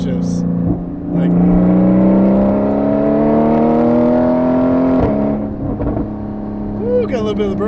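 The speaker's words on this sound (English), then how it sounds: "ooh, got a little bit of the burbles there." Porsche engine pulling loud and close through a gear while driving, a brief shift break, then the revs dropping into a crackling exhaust burble at the end.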